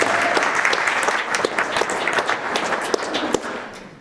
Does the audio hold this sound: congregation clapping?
yes